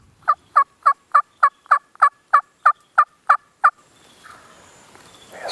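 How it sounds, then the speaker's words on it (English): Wild turkey gobbling in spring near a vine thicket, a rapid burst of about twelve loud, evenly spaced gobble pulses, then fading into quiet outdoor background rustle. "We got this turkey right around the corner."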